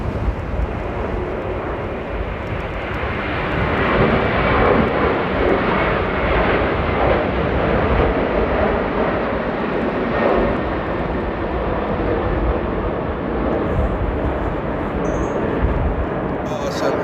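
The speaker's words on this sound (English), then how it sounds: "Alright, we got some takeoffs." Airplanes taking off at Amsterdam Airport in rain and strong winds: a loud, sustained jet engine roar rising and holding steady for a long stretch, heard from nearby amid wind noise.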